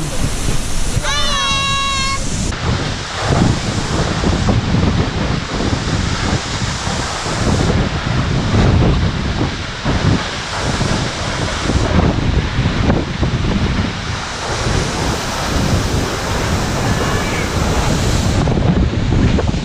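Strong wind buffets the microphone at Victoria Falls, a steady loud roar with the waterfall's rush behind it throughout, and a brief high whistle or cry early on.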